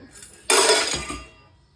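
Kitchen utensils being packed into a luggage bag, including a plate, a tea jar, a ladle and a spoon, give one loud close clattering clink that rings briefly and fades.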